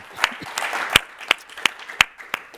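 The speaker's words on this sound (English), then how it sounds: "Let's give them a round of applause for making this happen." A small audience claps for the Climate One team, sparse and uneven, with a few sharp close claps standing out over a light patter of others, brief and fairly loud.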